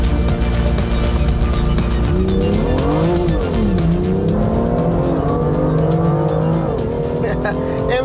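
A 2016 BMW M2 driven hard: its engine revs rise and fall through gears while tires squeal and skid continuously, loud and close, with a voice talking over it.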